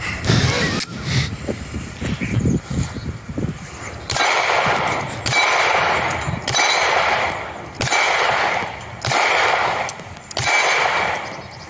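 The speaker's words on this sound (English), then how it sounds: "I'm shooting the Baretta APX" A Beretta APX 9mm pistol fires about six loud, sharp shots at a steady, unhurried pace, each followed by a brief ring, after a few seconds of voices and handling sounds.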